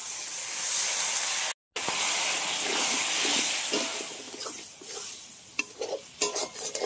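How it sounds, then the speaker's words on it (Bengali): A spice paste of turmeric, cumin, coriander and black pepper powders fries with a little water for a mutton curry, giving a loud, steady sizzle and hiss with scraping stirs, easing off near the end into brief clatters. "সামান্য জল দিয়ে মশলাটা ভালো করে কষিয়ে নেব"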